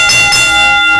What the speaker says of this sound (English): The bell has been rung more than twice already